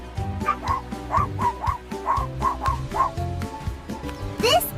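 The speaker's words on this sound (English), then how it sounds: "This is a dog. A dog says woof woof." A dog barks in a series of short, rhythmic yips and woofs, close and fairly loud, about eight barks in quick succession with some whimpering tones, ending with a brief higher sound.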